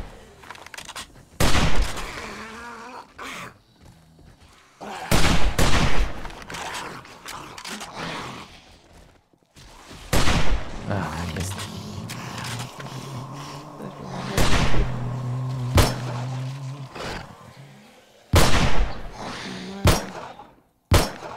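Gunfire erupts in bursts in 7 Days to Die during a night fight, loud volleys of shots and rapid fire separated by quieter stretches, with voices talking over the action.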